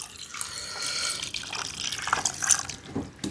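Water pours steadily into a pot of Kerala pork curry in a home kitchen, a continuous close splashing that rises toward the end, with no speech.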